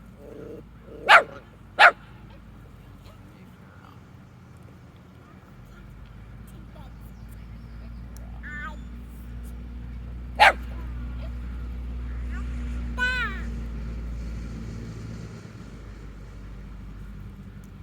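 A dog barks twice in quick succession, then once more later, with a few whimpering yips, over quiet low background hum.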